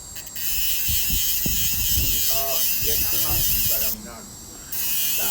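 A rotary dental handpiece whines steadily while cutting the sprues off a pressed Emax ceramic restoration, with a continuous high buzz that briefly drops away and then resumes. A person talks over the drilling.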